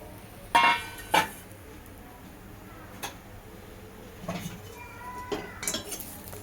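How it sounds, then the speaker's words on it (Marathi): Cluster beans dry-roasted without oil in a hot kadai give a few sharp metallic clinks and scrapes, two loud knocks near the start and lighter taps later, over a quiet background. "प्रथम कढई तापली आहे, आपण गवार शेंगा भाजून घेणार आहोत।"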